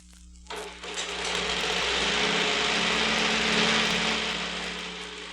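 A Maxwell Swirl Cut four-stroke rotary lawn mower engine starts up after a brief quiet moment, then runs with a steady, smooth, buzzing drone that holds at a constant level and eases slightly at the end.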